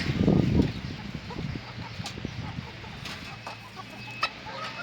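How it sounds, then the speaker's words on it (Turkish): Chickens cluck nearby, with a louder burst of squawking at the start, then scattered softer clucks and bird calls continuing. "15 tavuk 6 tane horoz bıraktık arkadaşlar kendimize"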